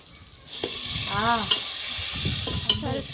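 Pieces of mutton go into a hot frying pan and are stirred, giving a steady loud sizzle with scraping and stirring noises, briefly quieter at the start.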